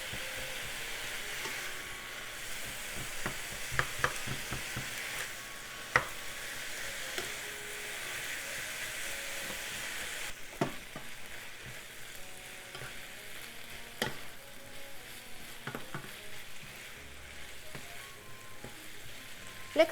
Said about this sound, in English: Once the pork is half cooked, add onion. And keep cooking until the pork is completely cooked.